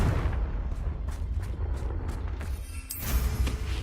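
A Confringo fire spell goes off in Hogwarts Legacy, a rumbling, booming blast over a few seconds with rhythmic bursts, a sharp crack near the end and a swelling roar, with no talk.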